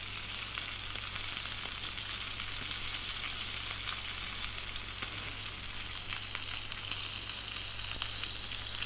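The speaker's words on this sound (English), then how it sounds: "sear it on the side, on the fat, just to help get that fat a little bit crispy" A steak searing fat-side down in a hot pan, a continuous loud even sizzle with occasional crackles, close and steady with no talking.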